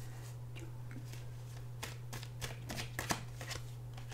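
Oracle cards being shuffled and pulled by hand, a soft close riffle of papery flicks and snaps that builds toward the end, faint and alone over a low steady hum.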